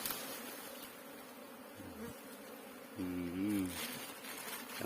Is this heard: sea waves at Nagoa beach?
no